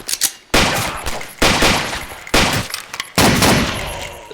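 Gunfire in Blade of Agony, four loud, close bursts of rapid automatic fire, each roughly a second long with short gaps between them.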